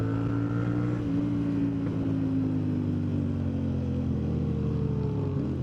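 A Honda CB650R naked motorcycle passes on an expressway, its engine note sliding gradually downward as it goes by, blended with steady road and wind noise from a moving bike.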